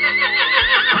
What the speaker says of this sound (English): Horse makes a sound called neigh.